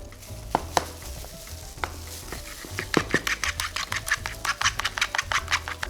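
Eggs with a pinch of salt are beaten for otak-otak made from milkfish, quick irregular scraping and tapping strokes of a utensil against a bowl that grow denser and more rhythmic toward the end, close and clear.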